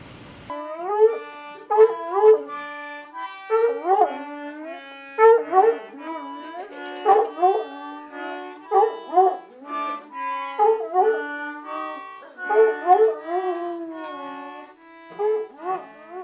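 Laddy, a hound dog, howls repeatedly in long wavering cries broken by yips and whimpers, loud and close, in an uneven rhythm of rising and falling calls with short gaps between them.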